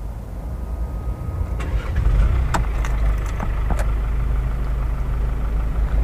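A 2019 Mercedes Vito van engine starts with a short crank and settles into a steady, close idle, a low continuous rumble with a few faint clicks around it.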